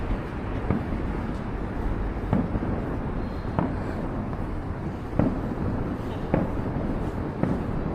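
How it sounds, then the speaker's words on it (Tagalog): Fireworks over the sea in Qingdao, distant muffled thumps bursting every second or so above a continuous rumble of wind and ambient noise. "Yun, yung fireworks. Sa may dagat."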